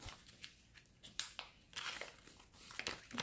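Cash bills pushed into a paper envelope, close and quiet, with irregular crinkles, rustles and short papery scrapes over a few seconds and no talking.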